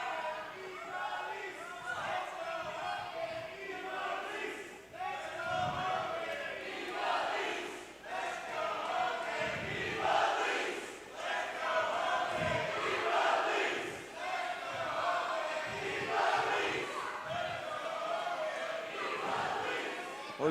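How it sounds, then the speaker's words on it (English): A women's wrestling crowd at a Ladies Night Out event splits into dueling chants, rhythmic rising and falling waves of voices filling the arena behind a commentator talking. "Well, dueling chants once again tonight. Crowd split on this one."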